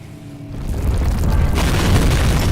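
Rocks crashing down in a dark cave in Amnesia: The Dark Descent, a loud rumbling boom that swells and grows noisier over a couple of seconds.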